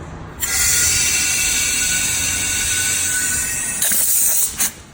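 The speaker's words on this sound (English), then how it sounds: "We're gonna pressurize it with air. With the air blower" A loud, steady high-pitched hiss of compressed air from an air blower pressurizing a leaking air suspension bag on a Mercedes ML550, blowing continuously for several seconds, cutting out briefly near the end with a few clicks.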